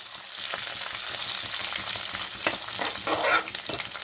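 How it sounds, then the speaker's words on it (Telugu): Plenty of garlic, mustard seeds, cumin and dried chillies fry in hot oil in a pan, a dense, steady close sizzle with brief crackles and a louder spattering swell near the end. "ఎక్కువ వెల్లుల్లిపాయలు వేసుకోవాలి. అవి వేగితేనే బాగుంటుందండి"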